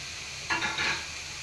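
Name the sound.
onions lightly frying in a pan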